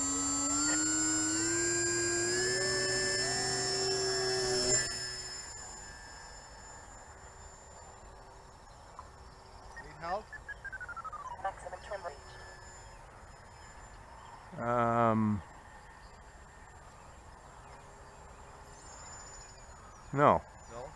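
A home-built, scratch-built delta-wing RC plane on its maiden flight, its electric motor whining loudly with rising pitch for about five seconds, then fading into quiet, with a few brief sharp bursts later.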